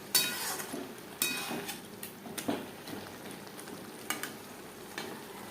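Chicken chow mein vegetables with capsicum stir-fried in a pan: soft sizzling under repeated scraping and clinking of a utensil against the pan, quiet and close.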